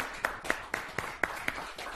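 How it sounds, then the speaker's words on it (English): A few hands clap for a magic trick volunteer in an even, quick rhythm: about six crisp claps, fairly faint and with no talking. "Give David a round of applause."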